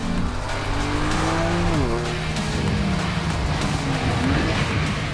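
A 2019 BMW M3 CS powers hard out of corners on a track, its engine note rising and shifting through gears with a steady loud roar and some tyre noise throughout.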